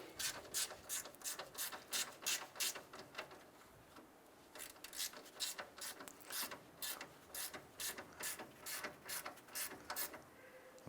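A ratchet snugs down a bolt on the ground wire of a 2001-2005 Honda Civic, clicking in quick, even bursts across several tightening strokes with a brief pause midway, close and fairly quiet, with no voices.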